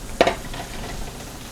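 Halved Brussels sprouts seasoned with salt and pepper frying on high heat in a pan, with one sharp scrape or toss at the start, then a soft steady sizzle.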